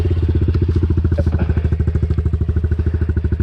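A Honda CRF 110 dirt bike engine chugs close by in a fast, even four-stroke thump while the rider tries to climb a step on an enduro trail, steady throughout with no talk.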